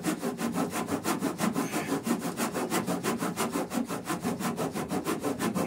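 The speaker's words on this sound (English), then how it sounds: "so there we can put the saw face flat to the" A hand saw cuts through a wooden sheer strake on a boat, giving rapid, regular back-and-forth rasping strokes, close and loud, with an even rhythm throughout and no talking.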